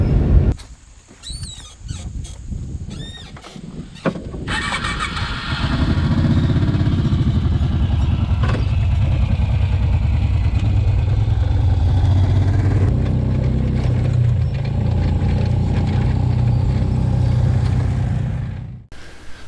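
A 2005 Kawasaki Brute Force 750 ATV engine starts and then runs with a steady, loud, close rumble after some initial clattering and clicks. It idles evenly for most of the stretch before cutting off at the end.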